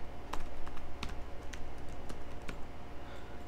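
Typing on a computer keyboard while entering commands to configure a RancherOS virtual machine: a close, uneven run of sharp key clicks with a few louder taps, alone with no talk.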